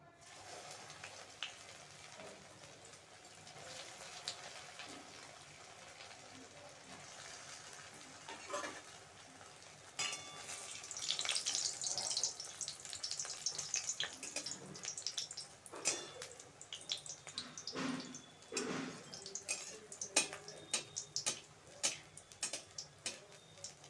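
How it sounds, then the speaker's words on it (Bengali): Bread pieces frying in hot oil: a steady, soft sizzle and bubbling with ticking pops, growing louder midway as more pieces go in, with occasional sharper clinks. "তেলটা গরম করে নিয়েছি, এবার আমি এগুলো একে একে দিয়ে ভেজে নেব।"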